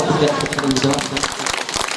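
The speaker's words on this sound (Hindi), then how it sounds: "जोरदार तालियां" An audience claps loudly at a Guru Purnima festival gathering in an ashram in Bariyarpur, Sitamarhi, Bihar, as a dense, continuous round of applause mixed with crowd noise and some voices.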